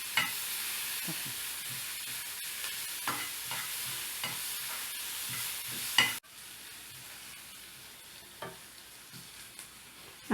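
Tomatoes sizzle steadily in a hot pan while a utensil scrapes and stirs at irregular intervals. Nobody speaks.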